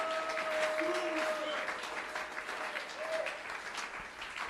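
Church congregation applauding during a Sunday worship service, a steady wash of clapping from many hands, moderately distant and sustained throughout, with faint tonal sounds underneath.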